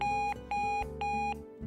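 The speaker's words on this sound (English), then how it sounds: "our 102 decibel extra loud alarm with adjustable tone and volume control," A Sonic Bomb Junior alarm clock sounding its extra-loud alarm: three evenly spaced, piercing electronic beeps, each about a third of a second long, close and prominent with no speech.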